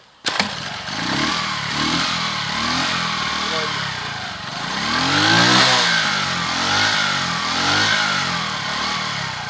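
A Masai Greystone motorcycle fires up after a kick start with choke on, then settles into a loud, close, steady engine idle that swells and eases in gentle revs for several seconds.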